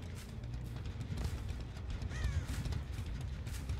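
Crows cawing in the horror game Dead by Daylight, a few harsh calls ringing out over a dense rumbling ambient backdrop with no speech.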